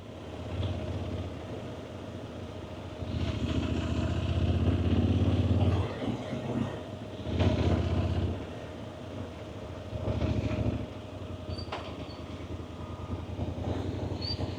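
A motorcycle engine rumbles steadily while riding, rising and falling as it revs, with wind noise throughout.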